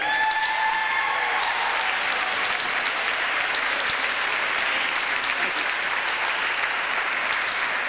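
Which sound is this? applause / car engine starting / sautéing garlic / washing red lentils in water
applause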